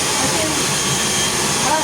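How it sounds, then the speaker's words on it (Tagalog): A hair blower dries freshly rinsed hair during a hair colouring session, giving a loud, steady rushing whoosh that runs unbroken from start to finish. "Blower po natin siya."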